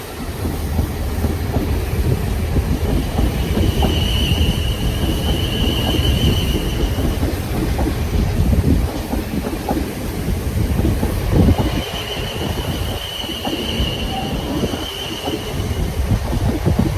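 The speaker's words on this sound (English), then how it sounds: "The train we shall be getting, if you can see that right there, is the 1624 to London Waterloo" A Class 450 train pulls into Basingstoke station, a loud, close rumble of wheels and traction with rhythmic rail clatter, squealing tones and a rising electric whine, continuing for the whole stretch with no talk.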